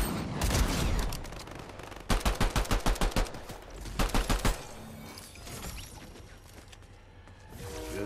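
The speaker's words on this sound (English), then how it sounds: "You know they're bots that shoot through the fucking trees." Gunfire from bots in a video game, with bursts of rapid automatic shots in fast rhythmic volleys, loud and close, mixed with other game noise and no talk.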